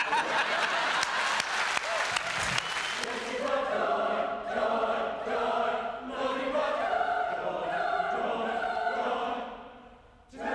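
An audience claps along at a choir performance: dense rhythmic clapping at first, then the choir's sustained singing takes over with the crowd's clapping and chuckles beneath before a sharp cut at the end.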